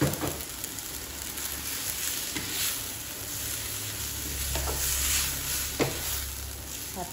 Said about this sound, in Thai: ผัดวุ้นเส้นแล้วอยากกินก็เลยผัดมา